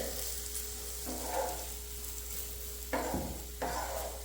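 Spices for crab curry sizzle in a pan while being stirred, a soft continuous frying hiss broken by a few brief scraping stirs.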